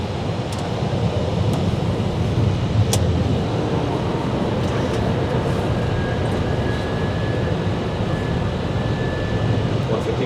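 Airbus A320 landing gear extending on approach, heard as a loud, steady rumble of airflow and engine noise filling the cockpit, with no distinct clunk standing out.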